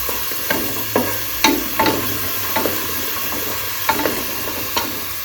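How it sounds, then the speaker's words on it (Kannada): Onions frying in coconut oil in a pan, a steady close sizzle broken by repeated scraping stirs of a spoon. "ನಾನಿಲ್ಲಿ ಸ್ವಲ್ಪ ಆನಿಯನ್ ಹಾಕ್ತಾ ಇದ್ದೀನಿ ಆನಿಯನ್ ಚೆನ್ನಾಗಿ ರೋಸ್ಟ್ ಆಗಬೇಕು"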